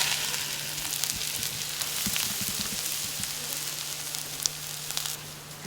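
Pumpkin leaves sizzle as they are stirred and fried in a pan in a Kerala kitchen, a steady hiss with light clinks of the spoon, no talk.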